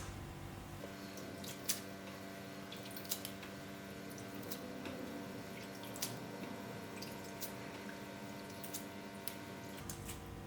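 Herbs being rinsed in bowls of water: quiet, steady sloshing with occasional soft drips and splashes, close by, no voices.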